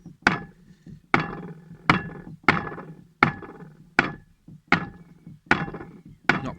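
A jar of cream is knocked hard against a surface to drive the air out while making homemade butter by hand, giving eight sharp, evenly spaced thuds close by, each with a short rattling decay and no talking.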